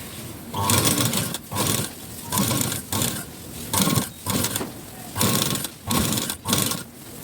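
A sewing machine stitches the front panel of a blouse in repeated loud bursts of running, each lasting about half a second to a second with short pauses between, close up and with no talking.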